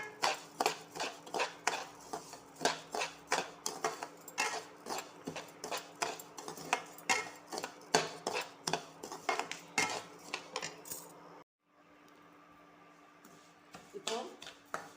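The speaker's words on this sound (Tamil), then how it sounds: "இப்போது நம்ம ரைஸு, ரவை, பாசிப்பருப்பு இது 3ஐயும் சேர்த்து நல்லா வறுக்கிறோம்." Rice, rava and moong dal dry roasting in a pan, a spoon scraping and clinking against the metal in a fast steady rhythm, close up, before a short pause and a few more strokes.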